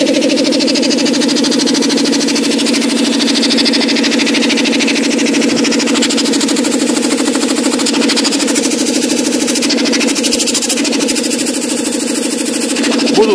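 A Chinese air compressor runs steadily with no pressure load, giving a loud, continuous mechanical drone with a rapid even pulsing rhythm close by, and no one speaks.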